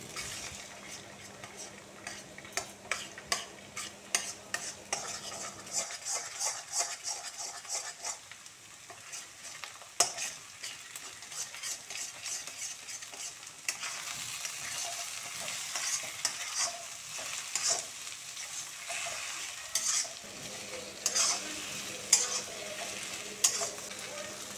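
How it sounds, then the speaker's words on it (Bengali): Eggs stirred and fried in a hot pan for a spicy eggplant mash, with a steady sizzle under frequent scraping strokes of a spatula, close and moderately loud throughout, with no talking. "ডিমগুলো বেশ নাড়তে চাড়তে যখন ঘন হয়ে যাবে"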